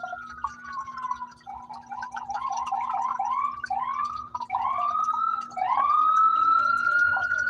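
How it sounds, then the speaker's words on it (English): Police car sirens pass outside, wailing and yelping in rising and falling sweeps that grow steadily louder toward the end, with faint indoor sound beneath. "There go them sirens again."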